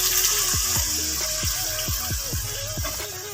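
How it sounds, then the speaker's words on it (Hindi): A little water splashes into a hot pan of qeema shami kebabs with a sizzling hiss, a run of gurgling, bubbling pulses repeating quickly over a steady background. "थोड़ा सा पानी डालेंगे"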